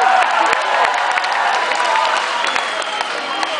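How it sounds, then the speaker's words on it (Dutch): A concert audience at a show in Sint-Niklaas applauds with loud, continuous, dense clapping and crowd noise that holds steady for several seconds. "Dus een groot applaus voor Wouter van Bellingen."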